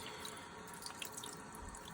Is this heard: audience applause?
no